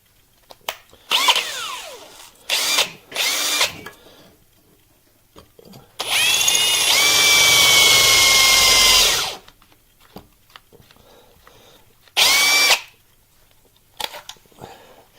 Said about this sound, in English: I recommend drilling your holes in your scales with a drill press